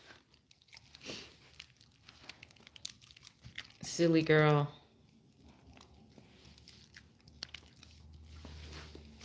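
A husky chews on a toy nearby, with one loud burst of biting and crunching and quieter gnawing around it, while a person talks.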